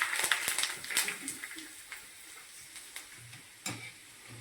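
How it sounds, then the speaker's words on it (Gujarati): Homemade rice kurkure snacks frying in hot oil: a steady crackling sizzle with scattered sharp pops and spatters, close and fairly quiet, with no voices. "આ રીતે તળી લેવાના."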